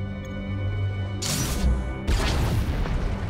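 Flux cannons firing on a capital ship in the game Star Wars: The Old Republic: two heavy booming blasts with crashing rumble, the second longer and rolling, over a low sustained electronic drone, no speech.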